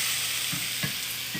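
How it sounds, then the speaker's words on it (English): Mushrooms and onions caramelizing in a hot pan give a steady close sizzle, broken by a few soft stirring scrapes, with no voices. "My mushrooms and my onions, we're starting to get a nice caramelization on it."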